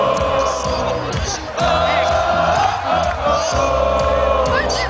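A loud, continuous crowd cheers and whoops at a Baltimore Ravens Super Bowl XLVII send-off rally as the head coach and team executives arrive, the roar swelling with scattered yells and chanting voices throughout.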